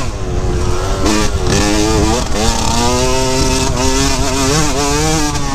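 A motorcycle engine running poorly after a missed shift on a track after rain, loud and close with a wavering, uneven drone whose pitch rises and dips, while a rider talks over it.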